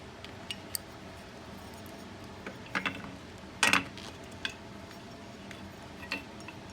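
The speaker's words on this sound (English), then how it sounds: "This is where you want to take your strap wrench." A strap wrench tightening a threaded 607 stock assembly, giving faint scattered ratcheting clicks and creaks against a quiet room, with one sharper crunching tick in the middle.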